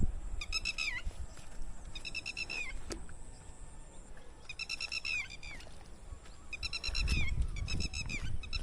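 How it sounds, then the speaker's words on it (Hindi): Bird calls from a forest trail along the Narmada near Bargi, heard as repeated bursts of rapid chirping in several spaced clusters, moderately near over soft outdoor ambience, with a few rustles and no talking. "ये चिड़िया की आवाज काफी दिनों बाद सुनने को मिल रही है"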